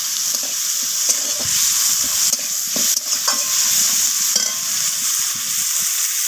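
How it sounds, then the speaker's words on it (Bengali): Onion and tomato fry in a pan with a loud, steady sizzling hiss, punctuated by frequent soft stirring scrapes, close up and with no talking. "আমি পেঁয়াজের সাথে টমেটোটাকেও ভেজে নেব"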